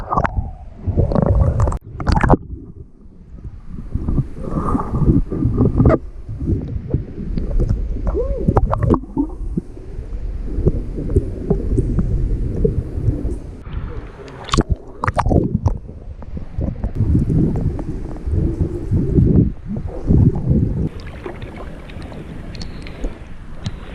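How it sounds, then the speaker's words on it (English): Sea waves slosh against the rocks at the back of a sheltered sea cave, a continuous deep rumbling surge with hollow echoes and some wind buffeting on the microphone. "All you can really hear is the waves hitting the rocks at the back of the cave, and it kind of echoes as it comes back out."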